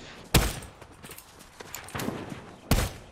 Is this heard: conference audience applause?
no